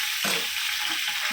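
Fish roe fries in hot oil, a steady bright sizzle with a few soft crackling pops and spatters, close and fairly loud throughout the short moment.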